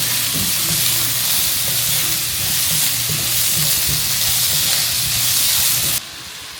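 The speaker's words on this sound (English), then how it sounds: "I'm just gonna stir fry it and then add the noodles" Food stir fries in a hot pan ahead of noodles going in, a loud steady sizzle and hiss with faint scraping stirs underneath, cutting to quieter background near the end.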